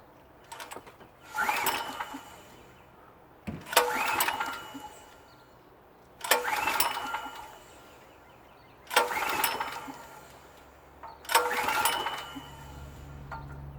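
Repeated pull-start attempts on a PowerSmart PS44 3000W portable generator, five rasping cord pulls at steady intervals, each a short burst of engine turnover that fails to catch, fairly close with quiet gaps between.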